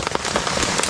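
Steady rain drums on a tarp stretched as an emergency shelter in a forest storm, a dense, close patter of drops with a few louder splats throughout.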